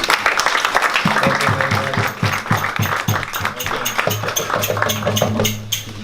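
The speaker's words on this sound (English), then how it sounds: "let's give a round of applause for Jesus" Audience clapping at a spiritual talk in a mantra house, brisk and fairly close, a dense patter of hands running the whole stretch with a low tonal hum underneath.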